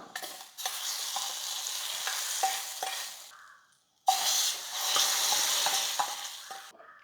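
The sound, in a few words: onions and eggplant sautéing in a pan for eggplant kadayal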